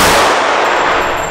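A single loud .45 pistol shot at an indoor shooting range in Los Angeles, a sharp broadband blast already ringing as the clip begins and decaying slowly over about a second, with no talking.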